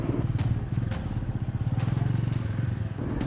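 A motorcycle engine putters along behind, its low, rhythmic chugging steady and moderately close, with a few faint clattering knocks over the drone.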